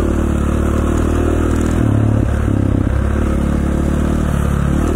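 Dirt bike ridden along a snowy Idaho road, its engine droning steadily and loud throughout, with a brief surge of revving and some scraping clatter near the middle.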